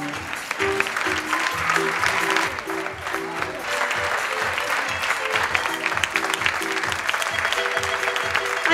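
Sustained applause fills a hall from the audience at an Andean fashion show, dense steady clapping that carries on throughout, with an announcer's voice over it and a faint crowd murmur underneath.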